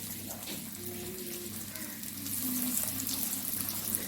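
Chicken lollipops dropped into hot frying oil, giving a steady, fairly loud bubbling hiss that grows stronger partway through.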